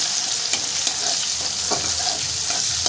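Chopped onion crackles in hot oil with black cumin, a dense, close sizzle broken by a few soft spatula taps and stirring strokes.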